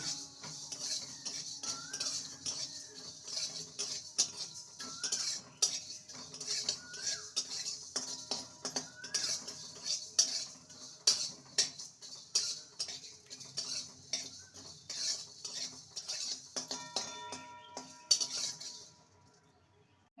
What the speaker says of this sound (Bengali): গোটা গরম মশলা লবঙ্গ ছাড়া এলাচ আর দারচিনি শুকনো খোলায় ভেজে নেব